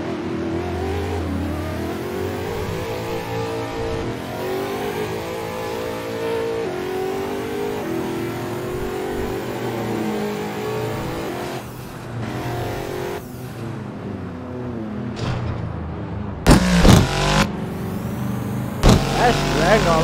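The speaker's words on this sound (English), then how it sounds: "this engine is loud as hell" A loud car engine revs and surges as the car drifts in a racing game, with sharp bursts of acceleration near the end and someone talking over it.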